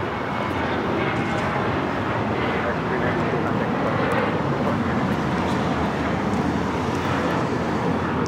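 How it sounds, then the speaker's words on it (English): An American Airlines Boeing 737-800 takes off, its jet roar a broad, steady rumble heard from a distance, continuous and fairly loud throughout. "392 taking off to Austin on the 737-800"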